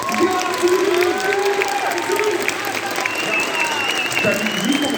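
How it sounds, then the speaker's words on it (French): Audience applause at a geek convention panel for the French voice actor of Garfield, a dense steady wash of clapping and crowd noise holding for the full length, with voices and some cheering mixed in. "je vous demande de faire un tonnerre d'applaudissements pour Garfield"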